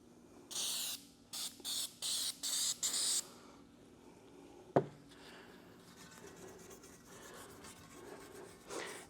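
Canola oil sprayed onto a vintage floor jack in about eight quick hissing bursts, close and crisp, followed by a single sharp knock and then quiet faint rubbing.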